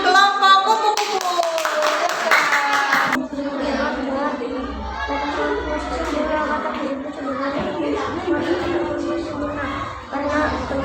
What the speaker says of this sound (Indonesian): Beri tepuk tangan untuk kelompok kupu-kupu